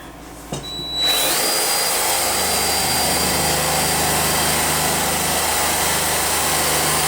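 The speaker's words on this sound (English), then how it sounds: "drill the hole," A power drill bores a pilot hole in wood while a wooden media shelf is being built. After a brief click, the motor spins up to a loud, steady, high whine and holds it without a break.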